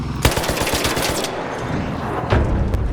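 Video game gunfire: rapid automatic bursts fired close and loud, a clattering burst at the start and another short volley near the end.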